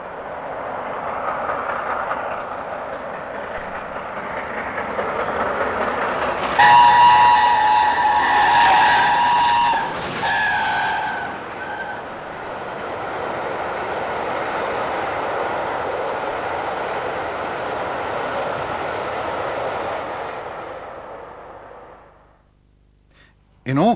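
Mallard steam locomotive running out of Skipton on the Settle and Carlisle line, a steady loud rumble with a whistle-like tonal blast midway, fading near the end.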